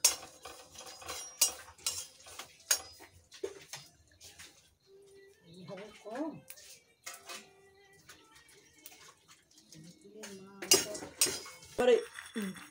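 Spices frying over a low flame in a pan, with a utensil scraping and clinking against the metal in irregular strokes. Quiet sizzling continues between the stirs, and a voice briefly sounds partway through.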